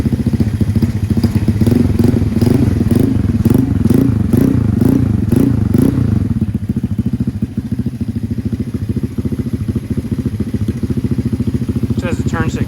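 A scooter engine idles while warming up, a loud close chugging putter with a rhythmic pulsing wobble early on that settles into an even idle, with voices talking over the first half.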